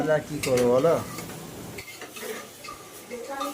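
Bukro cooks in a pot on a gas stove in a home kitchen with a soft, steady sizzle and occasional stirring scrapes. A voice speaks briefly at the start, then the cooking sounds carry on alone.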